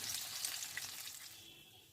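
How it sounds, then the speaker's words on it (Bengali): Pieces of homemade fish fry crackle and sizzle steadily in hot oil, a bright continuous frying hiss with no talking. "তেল গরম হয়ে গেছে, এবার আমি তেলের ভেতর ফিশ ফ্রাইগুলো দিয়ে ভেজে নিচ্ছি।"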